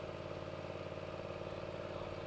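An imported lawn mower engine idles in a steady, even drone with a low rumbling pulse and a constant mid-pitched hum, moderately quiet and with no voices.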